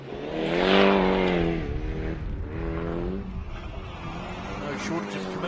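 A Toyota Corolla rally car revs hard on a gravel stage of Rally Bay of Plenty in New Zealand, its engine note rising and falling beneath a commentator talking throughout.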